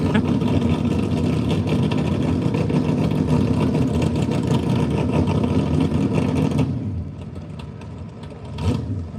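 Garden tractor engine roaring hard at a benefit tractor pull in Ohio, loud and steady for about seven seconds before dropping off, then a brief rev near the end.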